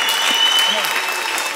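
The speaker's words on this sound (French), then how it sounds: "Applaudissez pour la parole." Congregation applauding during a church sermon and prayer service, steady broadband clapping throughout, fairly loud and close, with a voice speaking faintly underneath.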